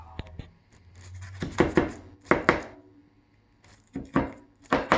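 Cutting into an Italian shepherd's pie with a crispy top: a series of close, dull knocks and scraping cuts through the dish, with a brief quiet spell in the middle.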